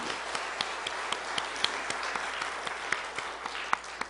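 Applause from a Korean church congregation after a choir performance, dense steady clapping with sharper individual claps standing out, moderately loud and sustained throughout.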